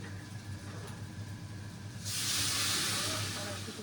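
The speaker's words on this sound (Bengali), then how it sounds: "এখন এই গরম জলটাই মধ্যে দেবো" Hot water is poured into a pan of cooking potato curry, a sudden loud hissing rush of steam that starts halfway in and holds steady over a low background hum.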